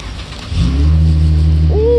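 A lifted 2017 Chevy Silverado LT with a 5.3L V8 cold-starts, the engine catching with a loud close burst and settling into a steady, strong idle with a rising rev near the end.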